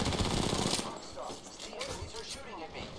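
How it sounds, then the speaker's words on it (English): Enemy automatic gunfire in Apex Legends, rapid bursts of shots rattling over one another, loud at first and then a bit quieter, with game effects behind. "The enemies are shooting at me."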